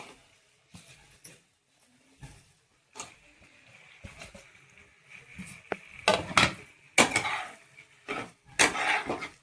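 Pasta with tomato sauce and soy sauce stirred in a pan with a spoon, sparse clinks and scrapes at first that build into dense, loud clattering strokes against the pan toward the end, with no talking.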